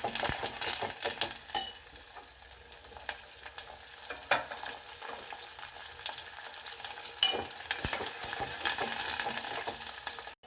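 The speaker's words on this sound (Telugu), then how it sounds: "ఎక్కువ నెయ్యి నెయ్యి వేసుకొని కూడా తాలింపు వేసుకోవచ్చు" Dried red chillies and ginger fry in ghee for a tempering, a close, continuous crackling sizzle with occasional stirring scrapes of a spoon in the pan.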